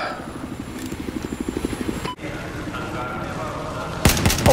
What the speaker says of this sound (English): Next up, rocket from the chopper.